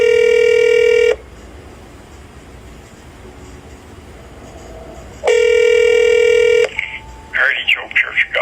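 An outgoing phone call to a church rings twice, each a loud, steady electronic ringback tone about a second long, with a quiet gap between them. A voice starts talking right after the second ring.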